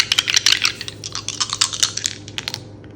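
Dice and game tiles rattle and clatter across a surface in a tarot reading, a dense run of close, sharp clicks and taps that thin out toward the end, with no talking.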